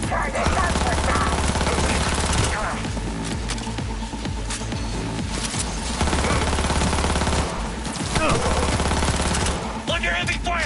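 Heavy automatic gunfire in the video game Cyberpunk, dense sustained bursts of shots with brief lulls, loud and close, mixed with game sounds and some voices.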